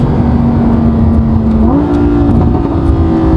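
Audi R8 V10 Performance Quattro supercar pulling hard, a loud, steady engine roar with its pitch stepping up through a gear change, close to the microphone and without talk.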